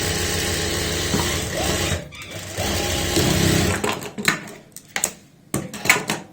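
A sewing machine stitches a straight churidar pajama seam with a half-inch margin, running in a steady close whir, then breaking into short stop-start bursts and clicks.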